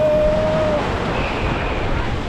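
Sea waves wash against a sandy beach in Real, Quezon, a steady broadband roar of surf with wind buffeting the microphone throughout, loud and close.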